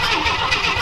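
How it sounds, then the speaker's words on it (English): An old engine on a secondhand machine with a corroded plug turns over under the starter, a brief, loud, close churning crank with no voices. "Let's cranky crank and see what it does."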